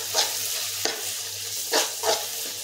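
Ginger and garlic paste being stirred into fried onions in a pan for a country chicken curry with potatoes; several distinct spoon-scraping strokes over a soft, continuous sizzle, with no voices.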